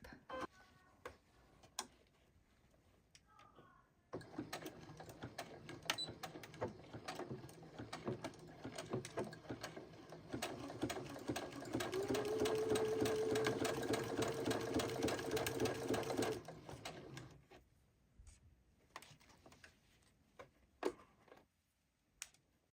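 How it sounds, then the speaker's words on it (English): A sewing machine stitching lining onto bias tape for a medieval tunic at a 2.5 stitch length, a fast rattling hum that starts abruptly, grows louder and steadier near the middle, then stops, followed by light handling clicks. "stitching over the lining and then onto the bias tape"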